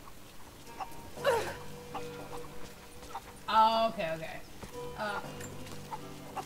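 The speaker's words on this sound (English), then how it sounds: "Chicken!" Faint game-world chicken clucks from Rise of the Tomb Raider come in three short bursts spread apart, the middle one loudest, under low ambience, with someone briefly speaking.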